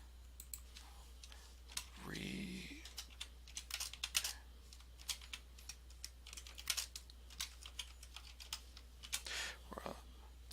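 Crisp keystrokes on a computer keyboard in short bursts and scattered taps, close up over a constant low hum, with a brief voice near the start.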